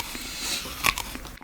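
A crunchy cherry ballistic snack is bitten into, giving one loud crisp crunch near the middle followed by a few softer chewing crackles, close up and without speech.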